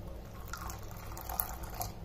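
Water is poured into two tablespoons of Kashmiri chili powder in a bowl, giving a light trickling splash with small drips over a quiet kitchen background.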